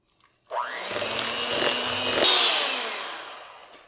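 An electric mixer beating butter, eggs and sweetener for cinnamon flax keto cookies, a loud whirring motor that starts abruptly, strains and rises in pitch midway, then winds down, close by with no talk.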